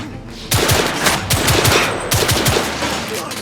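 Rapid gunfire from the action shooter The Order 1886 rattles in a loud, fast burst of repeated shots, a steady automatic rhythm carrying through most of the stretch.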